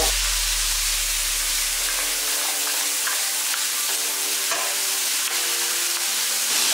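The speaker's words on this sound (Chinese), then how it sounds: "炒出香味后下鸭肉， 稍微炒一下" Duck meat is stir-fried in a wok with garlic sprouts, a loud, steady hiss of frying with intermittent utensil clatters. A low rumble fades out in the first seconds, and no one talks.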